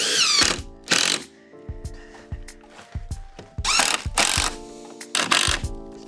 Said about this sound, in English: series of screws down the back there now and hold that together really easily. And these are 50mm screws